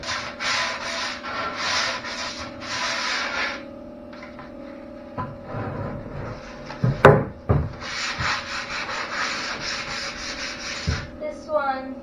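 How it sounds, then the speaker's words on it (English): Hand sanding of a wooden cabinet with 220 grit sandpaper, close and loud, in rhythmic bursts of back-and-forth rubbing strokes with short pauses and a few knocks between passes. "220 grit Walmart brand sandpaper, because I had a bunch of it left over from sanding the outside of the bus"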